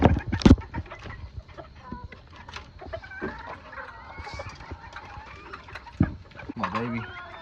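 Brown red chickens in a barn cluck and chatter in short, uneven calls, with a louder squawk near the start and another burst toward the end, alongside some rustling and background farm noise.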